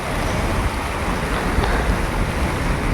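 Heavy rain and strong wind batter the surroundings in a steady, dense roar with gusty noise buffeting the microphone, loud and continuous with no talk.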